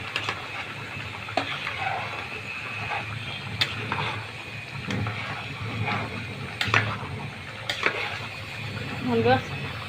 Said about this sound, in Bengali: গোলমরিচের গুঁড়া 3টা মিক্স করছি, এখন আমি দিয়ে দিলাম। মারলাম নাড়া।